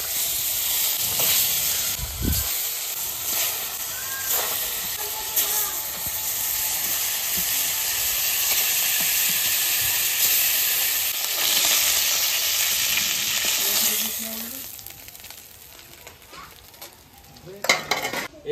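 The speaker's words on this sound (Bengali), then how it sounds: "এই মাছ ভাজার কড়াইতে এই মাছটা ভেজে নেব।" Shol fish rubbed with salt and turmeric fries in a kadai, a loud continuous sizzle with steamy hiss and occasional stirring clatter that quiets toward the end.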